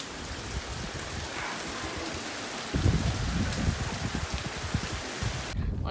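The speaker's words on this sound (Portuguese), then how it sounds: "Tá chovendo tudo aqui, Luna." Heavy rain pours outdoors in a constant dense patter, growing louder and more splashy partway through as drops hit surfaces close by, with no talking.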